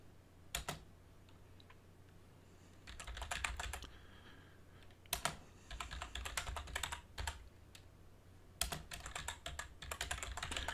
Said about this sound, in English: And you type in here git.